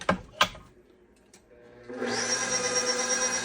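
Chocolate cake batter mixed right after white distilled vinegar goes in: a couple of sharp knocks, a quiet pause, then a loud, steady electric mixer whir that runs to the end.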